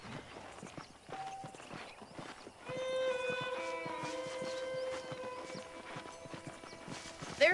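Horse hooves clip-clop steadily in the Red Dead Redemption game, a continuous walking rhythm at moderate volume under a swelling tonal music score, with a brief whinny near the start.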